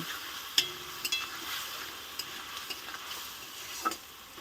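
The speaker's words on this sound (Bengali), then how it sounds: "মশলাটা আমি এইভাবে সুন্দর করে আলুর সঙ্গে একদম কষিয়ে নিয়েছি" Potatoes and spice paste sauté in a pan for katla fish curry, a soft constant sizzle broken by several distinct clicks and scrapes of stirring, close and unaccompanied by speech.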